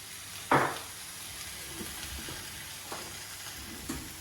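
Eggplant steaks seasoned with garlic powder get tossed in a frying pan: one sharp sizzling burst as they land, then a soft steady fry with a few faint clinks and stirs, quiet and close.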